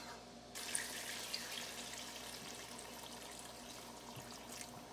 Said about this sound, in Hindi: अब इसके अंदर गर्म पानी शामिल कर दें।